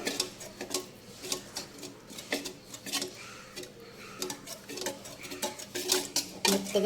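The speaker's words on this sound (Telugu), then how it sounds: "కందిపప్పు ఈ పప్పును చక్కగా మ్యాష్ చేసుకొని" Boiled toor dal mashed in a pot, giving close, irregular soft clacks and scraping taps that repeat steadily throughout, with no talking.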